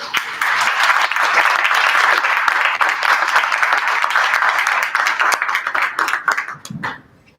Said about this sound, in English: give Stephen a huge round of applause